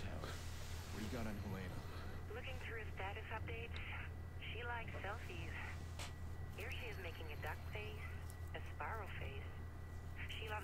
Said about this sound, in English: I'm making a phone call.